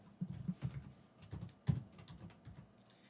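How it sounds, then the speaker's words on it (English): Typing on a computer keyboard, a short run of quiet, close key taps with irregular rhythm and one firmer keystroke, no voices. "we will type this."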